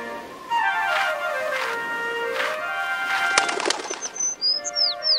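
A small bird's wings flap in a few quick bursts, with high chirps and whistling tones around it.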